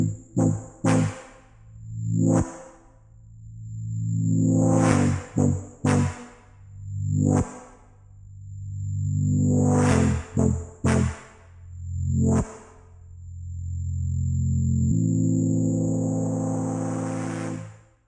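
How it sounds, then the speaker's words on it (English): An Operator synth playing a progression of buzzy saw-wave chords, each note swept open and closed by a filter, with a long sustained final chord. "let's move on to the next synth, which is just going to be this one playing these chords"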